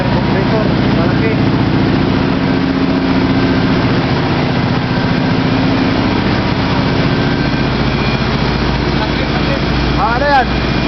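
A large air compressor runs aboard a ship, a loud continuous low mechanical drone filling the engine room with no break, and a faint voice appears near the end.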